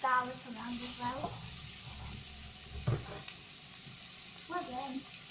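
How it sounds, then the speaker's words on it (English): Chopped vegetables and garlic sizzle softly in a pan for minestrone soup while being stirred, with a steady low hiss. Someone talks intermittently over the cooking. "So give them a good stir. Some of them are kind of already softening."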